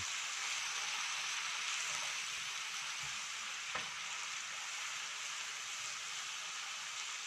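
Spice paste with oyster sauce and a splash of water stirred in a hot frying pan, giving a steady, close hiss of sizzling with a few soft scrapes of the spoon, continuous throughout with no voices.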